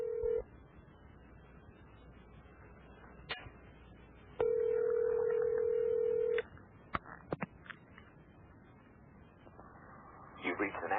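A telephone call placed on an old landline: quick dialing tones, then a long steady ring tone with brief clicks and further tones after it, heard alone with no voices.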